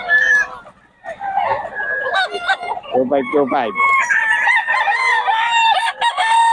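Several roosters in Bocaue crow repeatedly, loud and close, their calls overlapping with some clucking among the flock.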